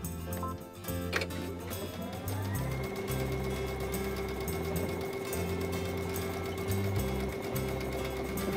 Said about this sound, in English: Select a buttonhole stitch and line up your fabric and start stitching.